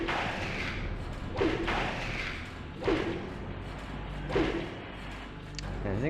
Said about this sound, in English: Man, these things take like 4 axe hits.